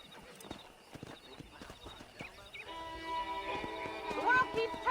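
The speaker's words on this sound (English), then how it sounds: "Let's see if we can't wrangle some horses." Horse hooves clip-clop in an irregular rhythm in Red Dead Redemption, followed by a loud neigh and whinny that rises near the end, with a brief voice underneath.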